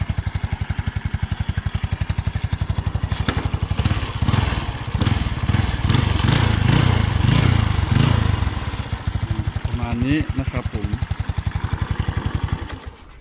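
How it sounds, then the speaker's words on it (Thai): A Honda Wave 100 motorcycle with stock-sounding exhaust idles steadily with a throaty burble, revving up briefly in the middle before settling back to idle, with no talking. "แต่ว่าเสียงก็เหมือนเหมือนรถเดิมๆเลยนะครับผม เสียงเหมือนท่อเดิมเป๊ะนะครับ"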